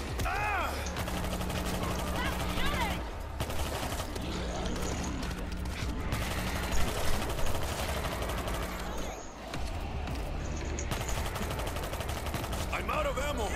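Constant automatic gunfire and bursts of shots against zombie hordes in the video game World War Z, dense and close with mechanical clatter, while players talk over the din.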